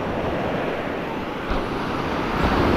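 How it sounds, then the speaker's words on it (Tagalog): Ocean waves wash onto the shore at Mantigue Island, a steady loud rushing surf with a small surge midway and wind noise over the microphone, with no talk. "Lalaki po ng alon."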